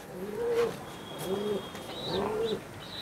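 An Andhra Fulsira female pigeon in a loft coos three times in soft, rolling, throaty phrases, evenly spaced and close by, with faint chirps in the background and no talking.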